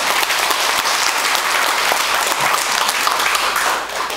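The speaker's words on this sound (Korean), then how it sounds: "박수 부탁드릴게요." An audience applauds ahead of a song at a gathering with a poet nun, sustained crowd clapping that holds steady and fades slightly at the very end.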